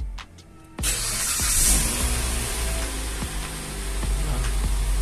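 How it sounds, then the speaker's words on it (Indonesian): After a few quiet clicks, a car engine cranks and catches, then settles into a loud, steady idle with slight revving. "Ini kita coba hidupkan mesin ya."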